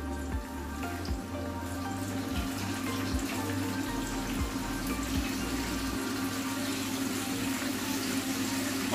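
Squid, shrimp and small scallops deep-fry in oil at 185 degrees, giving a steady close-up sizzle and crackle with a constant bubbling hiss and no talking.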